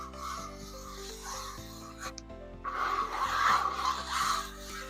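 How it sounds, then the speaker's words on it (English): A hand and fingernails rub across the gritty textured face of a Six Zero Ruby Pro pickleball paddle, a close, continuous rasping scrape that grows rougher and louder partway through, heard over a low steady hum. "you can listen to me rub my hand on it. You can hear how gritty it still is. And I'll put my fingernails on it."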